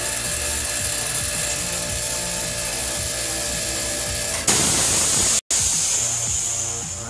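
Silent air compressor running steadily with a constant hum, then a sudden loud hiss as its solenoid pressure relief valve vents, close and continuous.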